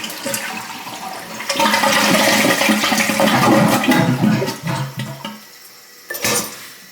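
A metal water shut-off valve squeaks and grinds as it is turned, followed by a rush of water through threaded pipes, then a brief clank near the end.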